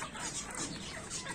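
A hen clucks repeatedly amid a dense, noisy farmyard background, the calls blending into a steady scratchy texture.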